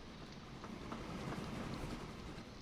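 Train rolling along in the Train Fever railway game, a steady wide rumbling hum with faint rhythmic clicks, continuous and moderately loud throughout, with no talk.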